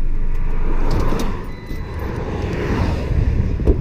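A VW Up TSI engine misfiring on its third cylinder runs rough and uneven, with a constant low rumble broken by irregular thumps and stumbles.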